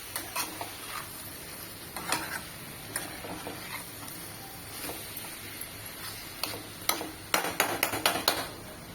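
Spices stir-fried in oil in a pan for totapuri mango pickle, soft sizzle under repeated scraping and clinking strokes of a spoon against the pan, growing busier toward the end, close with no talk.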